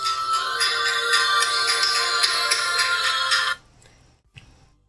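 A phone ringtone plays loud and steady, a bright electronic tone that repeats for a few seconds, then cuts off abruptly and leaves near-silence with a faint click.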